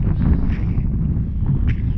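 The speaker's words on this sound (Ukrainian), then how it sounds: "просто вітер дує" Strong wind gusts straight into the microphone beside a sunflower field that has just been weeded, a loud, steady low rumble and buffeting that fills the whole stretch without a break.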